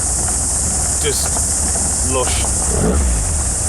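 A customised car's engine idles with a low steady rumble, with a few brief rises in pitch like light revs, heard close and fairly loud under faint background noise.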